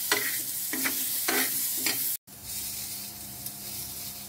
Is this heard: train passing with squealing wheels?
no